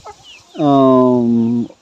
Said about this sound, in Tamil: நம்ம பண்ணையில் இருக்கக்கூடிய இப்போதைய ப்ரீடிங் சேவல் இது ரெண்டும்